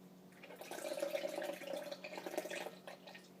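Milk pours steadily from a bag into a bowl of chocolate cereal, a continuous liquid splashing and trickling close by for a few seconds with no talking.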